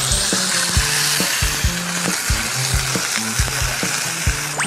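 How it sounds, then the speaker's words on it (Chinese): Three-cup chicken fries in hot sesame oil in a wok, giving a loud, continuous sizzle broken by repeated rhythmic scrapes of stirring. "三杯鸡要下锅了啊。"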